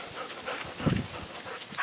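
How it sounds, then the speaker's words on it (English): Montana, an ornery dog, pants rapidly up close while scrabbling and jumping up, with light paw thumps and clicks mixed into the quick breaths. "here comes Montana, the ornery dog"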